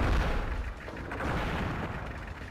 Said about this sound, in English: the war tank attacked it